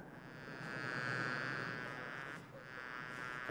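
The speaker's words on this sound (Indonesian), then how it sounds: "Seekor lalat." A fly buzzing near the ear on a Himalayan mountaintop in a comedy sketch, giving a steady whining drone that swells and dips slightly before settling back over a quiet background.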